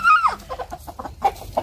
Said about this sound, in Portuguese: assustou as galinhas